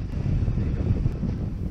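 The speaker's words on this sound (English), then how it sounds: "As you can probably tell, the wind really picked up" Strong wind buffets a fishing boat off the Texas coast near Galveston, a steady low roar of gusts rumbling against the microphone with no speech.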